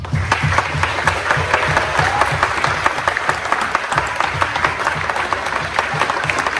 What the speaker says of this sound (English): Let's give 1 minute applause